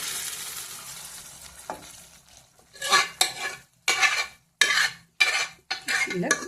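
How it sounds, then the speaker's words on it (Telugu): Cooked lentils are poured into a hot, sizzling tempering and stirred, bringing bursts of loud sizzling and scraping utensil strokes in uneven pulses after a quieter start. "ఇప్పుడు పప్పు పోసుకుందాం తాలింపులో"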